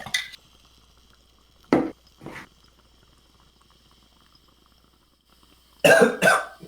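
Several separate coughs, a couple early and a louder double burst near the end, with quiet pauses between them.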